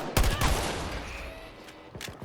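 Gunfire from an enemy turret in the Battlefield video game, a short loud opening burst followed by a few quick shots that fade into a trailing rumble.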